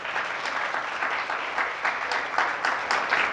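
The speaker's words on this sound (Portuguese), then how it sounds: "Uma salva de palmas para a Nayara." Audience applause at a talk on honour, a steady wash of many hands clapping for a reader, fairly even in loudness with small swells throughout.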